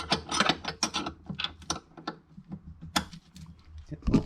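Metal spanner clicks and clanks against a Sea-Doo GTI/GTX/GTR jet pump impeller during rope removal: a series of sharp, close, irregular ratcheting taps and knocks, with a heavier thud at the end.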